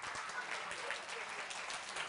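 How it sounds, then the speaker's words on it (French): Audience applause at a live French-speaking stage event fills the space steadily, a dense wash of many hands clapping at moderate distance, with a bit of voice mixed in. "on l'applaudit très fort"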